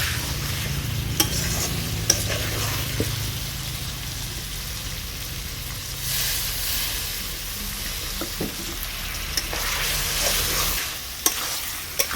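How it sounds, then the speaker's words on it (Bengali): Chicken being stir-fried with water in a kadai while making doi murgi (yogurt chicken). A steady frying hiss runs throughout, with scraping stirs and occasional sharp clinks of the spatula against the pan. "আর একটু জল দিয়ে ভালো করে কষিয়ে নিচ্ছি।"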